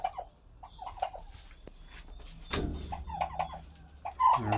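Several short gobbles and clucks from a male turkey repeat at a moderate distance over steady background noise, with one sharp knock in the middle.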